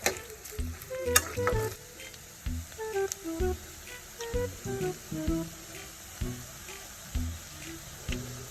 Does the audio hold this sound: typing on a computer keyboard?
no